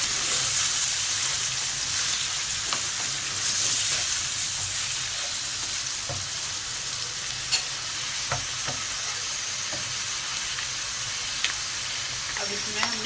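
Finely chopped ginger and garlic cloves sizzle in a hot pan with a constant frying hiss, broken by occasional sharp clicks and scrapes of stirring over the steady crackle.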